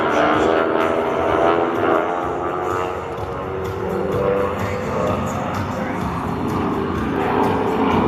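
An aerobatic propeller plane at the Sun 'n Fun 2018 airshow, its prop tips near supersonic, gives a loud, raspy engine roar that stays steady with slight swells, and a voice comments faintly beneath it.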